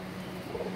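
Faint, low cooing from Khokhar pigeons at a pigeon fancier's loft, softly murmuring under steady background noise with no voices.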